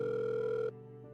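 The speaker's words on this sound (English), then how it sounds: "the call finally connects" Phone call ringing as it connects, a steady electronic ringing tone held for under a second, then cutting to a quieter, lower line tone, close and clear.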